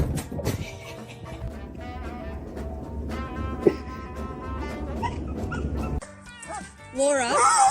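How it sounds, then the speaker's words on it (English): Dogs left home alone yip and whimper in a household setting over steady background noise and speech-like sounds, with a sharper burst of high whines and cries near the end. "This is what happens when dogs are left alone."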